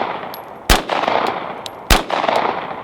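Two evenly spaced 9mm pistol shots crack at a steel target, each with a bright metallic ping and brief outdoor echo, loud and separated by about a second.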